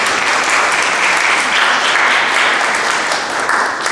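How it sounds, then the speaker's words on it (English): An audience applauds, a dense, steady wash of clapping that holds loud and even throughout. "So give yourselves a round of applause for doing that."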